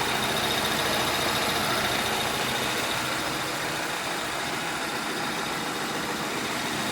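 A freshly rebuilt Volvo XC90 SPA plug-in hybrid with a B4204T35 engine idles on its first run. The idle is a steady, even, continuous hum heard up close, with no voices.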